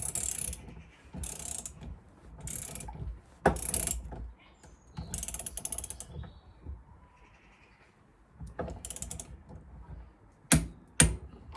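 Torque wrench tightening bolts on a CB Performance 2017cc long block, the part held in a vise, a run of crisp close ratchet clicks in bursts with pauses between pulls.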